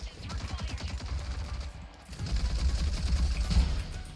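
Bursts of rapid gunfire from the online shooter game Rogue Company rattle in quick rhythmic volleys, pausing briefly before a louder, denser stretch of shots.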